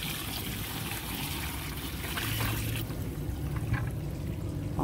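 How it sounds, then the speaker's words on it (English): Water pours and trickles through pond filter bio balls, a steady wash of splashing and dribbling that carries on throughout, close by and fairly soft, with no one talking. "So pour the water up through here."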